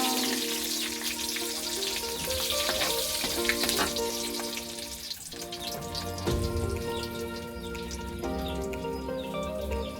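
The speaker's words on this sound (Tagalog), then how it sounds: "gamitin natin ang pinagprituhan natin ng galunggong na panggisa sa ating kamatis. Ilagay na natin ang bawang." Garlic sautéing in oil left over from frying galunggong fish, giving a steady, close crackling sizzle for the whole stretch, with a sustained tonal hum running underneath.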